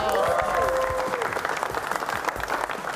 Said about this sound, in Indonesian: Kita kasih tepuk tangan dong.